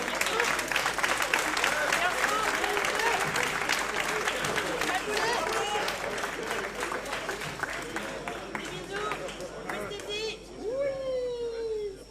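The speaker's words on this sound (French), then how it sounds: "Première place, tonnerre d'applaudissements" A crowd at an event's closing ceremony bursts into loud, sustained applause for first place, with dense clapping and some cheering, fading toward the end as voices take over.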